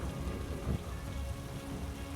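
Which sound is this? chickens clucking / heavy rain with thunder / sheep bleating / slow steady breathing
heavy rain with thunder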